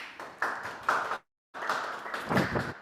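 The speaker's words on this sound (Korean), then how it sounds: "큰 박수 부탁드리겠습니다" An audience applauds a lecturer at a parents' education session in a Korean clinic, two bursts of dense clapping close by, broken by a brief silent gap midway.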